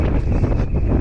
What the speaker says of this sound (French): Je sais pas si vous entendez le vent là